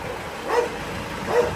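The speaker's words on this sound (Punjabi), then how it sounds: "ਕੁੱਤਾ ਭੋਂਕਣ ਡਿਆ ਗਾ" A dog barks twice, about a second apart, at a moderate distance, with no speech over it. The barks are short and mid-pitched, set against a steady background.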